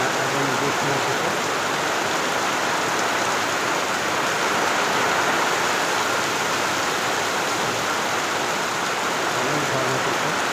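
Heavy rain in a storm pours down as a dense, steady roar of hissing water, loud and unbroken throughout with no pauses.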